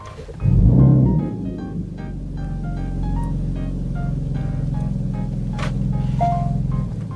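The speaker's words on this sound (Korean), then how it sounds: "지금 시동을 다시 걸어서 잠깐 보여드릴 건데" A Kia Stinger engine restarting: a loud cranking catch, then a steady low idle hum that settles and runs on evenly, close by with faint small clicks and no talk.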